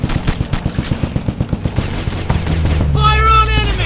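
Rapid automatic gunfire in the mobile shooter Commando Strike, a loud, steady burst of evenly spaced shots lasting a few seconds, then trailing into an electronic tone and a game voice.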